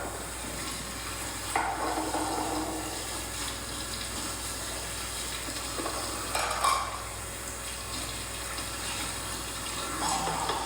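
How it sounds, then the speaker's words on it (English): Hot water rinses through a plastic hummingbird feeder emptied of old nectar, a steady running-water wash with occasional clinks and splashes, close by, with no voices. "I empty the old nectar out of it, and I give it a good rinse with hot water"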